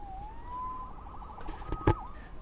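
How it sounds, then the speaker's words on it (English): A police siren from the Spider-Man video game wails and sweeps in pitch at moderate volume, joined near the end by a short burst of louder game sound effects. "Saved by the siren."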